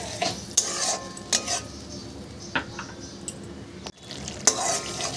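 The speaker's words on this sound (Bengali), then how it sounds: "আমার কষানো হয়ে গেছে, আমি এবার এটার মধ্যে জল দিয়ে দেবো।" Water goes into a sizzling fish curry masala in a pan, and a spoon stirs and scrapes it. Steady frying hiss runs underneath with a few sharp clinks and a brief pause near the end.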